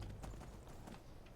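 Hooves of an over-encumbered horse clip-clop faintly and steadily in the game TerraFirmaPunk, a quiet, low walking rhythm.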